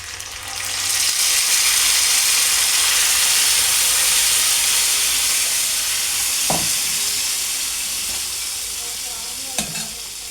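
Dal poured into a sizzling tempering sets off a loud, sustained hissing fry that swells after a quiet first second and then slowly fades, with two brief clacks of a utensil.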